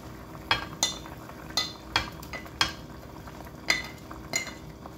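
Sponge gourd stirred into a pot of boiling sardines, with a series of clinking scrapes of a utensil against the pot over a low, steady bubbling simmer, close and moderately quiet, with no talking.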